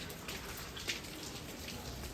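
Rain falls in a steady, faint hiss, an even wash of drops with one slightly sharper patter partway through.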